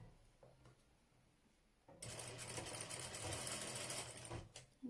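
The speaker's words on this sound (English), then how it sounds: "Just sew on top neatly." Sewing machine topstitching the ruffled hem of a baby dress; a soft handling rustle gives way to a steady, close mechanical whirr of rapid stitching that runs continuously for several seconds.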